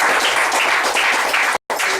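A graduation ceremony audience applauds a graduate with loud, dense clapping that cuts out abruptly for a moment near the end before resuming.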